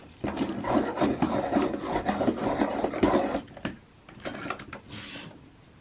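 A pumpkin orange colouring pencil is turned in a sharpener, giving a steady close rasping, scraping grind for a few seconds that fades into lighter intermittent scrapes.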